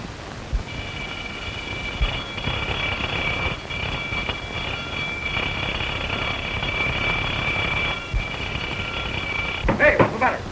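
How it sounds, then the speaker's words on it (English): An alarm bell rings continuously for about nine seconds in an old film serial, a sustained metallic tone with engine-like rumble beneath it, cutting off near the end as voices break in. "Sound the alarm, quick."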